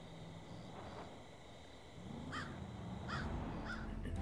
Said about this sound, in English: The crows know this is my gift to them, and they signal by crowing.